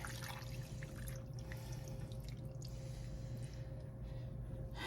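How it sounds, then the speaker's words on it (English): Water pours steadily into a pasta casserole container in a kitchen, a continuous close trickle and splash with a low hum underneath and no talking. "Now we're going to add 3 cups of water"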